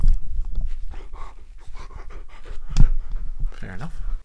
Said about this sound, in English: Sorry, my dog's acting crazy.